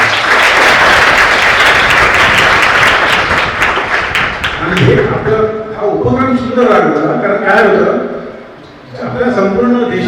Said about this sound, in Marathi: त्यांच्यासाठी सगळ्यांनी टाळ्या